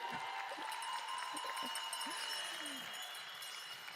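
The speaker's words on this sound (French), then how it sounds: "Merci pour ces applaudissements" Applause from a crowd at the opening of a Familles Rurales congress fills the space, steady and continuous, with some voices and faint tones beneath it.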